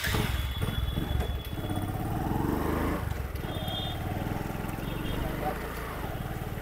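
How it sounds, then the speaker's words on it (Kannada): A motorcycle engine runs with a steady, rough putter as a ride sets off, staying loud and continuous while people talk over it. "ಬೈಕ್ ರೆಡಿ ಆಯ್ತಾ. ಇವಾಗ ಹೊಡ್ತಿದ್ದೇವೆ ಇಲ್ಲಿಂದ."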